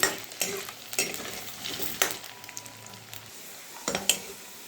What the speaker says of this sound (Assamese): প্ৰথমতে মই আলুখিনি ফ্ৰাই কৰি লৈছোঁ।